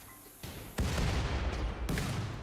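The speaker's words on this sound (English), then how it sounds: "So now we're going to see a big explosion." A loud explosion in the video game RimWorld hits with a sudden boom and then a sustained rumbling roar, with a second burst near the end and no talking.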